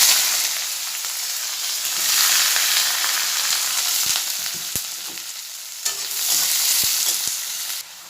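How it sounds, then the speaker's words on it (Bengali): Onions frying in hot oil make a loud, continuous sizzle that surges and eases, broken by sharp spatula clicks and scrapes against the pan, up close, with no one talking. "তেল গরম হয়ে আসছে, এবার পেঁয়াজগুলা দিয়ে দিচ্ছি"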